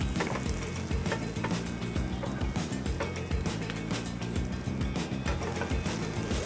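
Brussels sprouts sauté in a pan with a steady, dense sizzle and crackle, a continuous frying hiss that holds at an even level throughout with occasional small pops.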